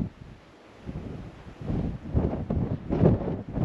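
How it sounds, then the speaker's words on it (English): Strong wind buffets the microphone on a mountain pass along the Nevada Backcountry Discovery Route, a steady low roar that rises in gusts and grows louder toward the end, with no talking. "Because yeah, it's windy as shit out."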